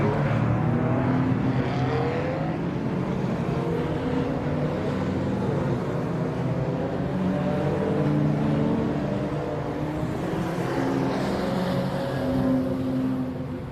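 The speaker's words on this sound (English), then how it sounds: "Rob Burley leads them away on the formation lap here for the Classic Modern Motorsport Club Southern Series Tin Tops and Super Saloons Race 1 here at Brands Hatch Indy" Classic and modern saloon race cars on the formation lap at Brands Hatch Indy circuit: a steady, loud blend of many engines droning together from middle distance, continuous throughout with a slight swell near the end, no talk.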